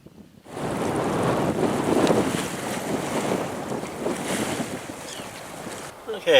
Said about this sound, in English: we have arrived at the Galveston Bolivar Ferry. So we'll be taking a ferry ride across this port.